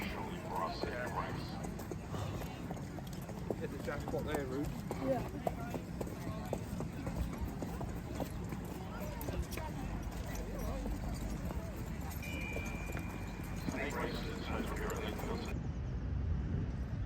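Racehorses' hooves clop along steadily in a loose walking rhythm at Lingfield Park racecourse, mixed with a murmuring crowd and background chatter.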